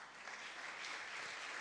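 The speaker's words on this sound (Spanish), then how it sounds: "¿Cuántos le dan un aplauso al Señor?" A church congregation applauding together, a dense, steady burst of clapping filling the hall, fairly faint and unbroken.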